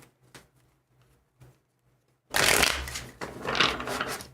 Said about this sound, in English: Okay, one more shuffle here.